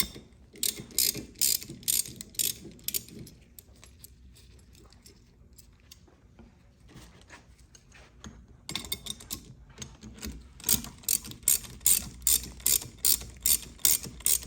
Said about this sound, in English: Now we're going to take our 15/16 and loosen the nut.